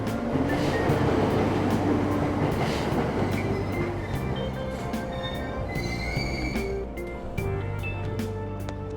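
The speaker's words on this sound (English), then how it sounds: "Train doors are now closing." A train departing a station in the video game Persona 5 Royal, with a loud, steady rumble of wheels and rail noise and brief higher squeals, continuing throughout without speech.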